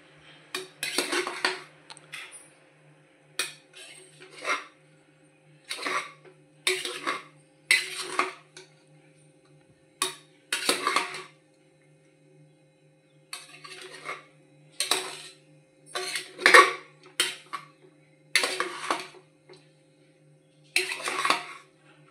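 A metal spoon scrapes and clanks against a pot while tamarind rice (pulihora) is mixed, in repeated bursts of clattering strokes separated by short pauses.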